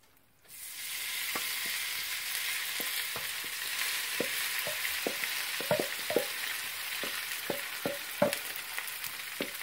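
Bubble and squeak fries in nut-brown, frothing butter in a pan, giving a steady, close sizzle with scattered pops and spits throughout, and no one talks over it.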